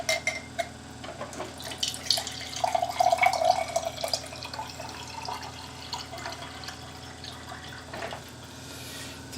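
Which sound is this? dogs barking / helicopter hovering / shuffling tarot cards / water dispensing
water dispensing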